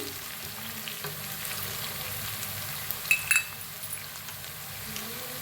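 Onion and green chili sizzle steadily in a pan in a close, continuous frying hiss, with a brief metallic clink of a utensil partway through.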